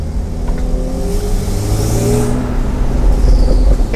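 A Stage 2 Porsche 911 Turbo with an Akrapovic exhaust in sport mode revs close by, its loud, continuous engine roar swelling and holding strong throughout.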